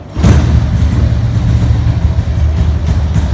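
A Honda Wave 110i motorcycle with a stock exhaust starts up indoors in a small room and roars to a loud, steady engine note that holds close and full with slight revving fluctuations.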